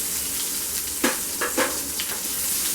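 Sliced onion and bay leaves hit hot oil in a pan, giving a loud continuous sizzle with sharp crackling bursts and stirring scrapes, with no one talking.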